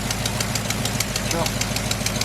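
A Chevy tow truck engine runs at idle with a fast, steady ticking from an exhaust leak near the header, a close rhythmic tapping over a low engine drone.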